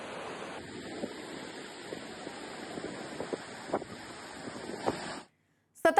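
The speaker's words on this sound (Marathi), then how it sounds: "सुमारे 100 फुटांवरून कोसळणाऱ्या जलधारा पाहण्यासाठी पर्यटकांनी मोठी गर्दी केली आहे" Water of the Sahasrakund waterfall crashes down from about 100 feet in a steady, broad roar, with gusty rumble mixed in until it cuts off abruptly near the end.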